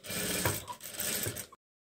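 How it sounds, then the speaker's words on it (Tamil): Sewing machine running a straight stitch on a blouse, a steady mechanical whirr with rapid needle ticking in two short bursts, close and alone, ending abruptly. "மடித்து வச்சு நீட்டு தையல் போட்டுடுறீங்க."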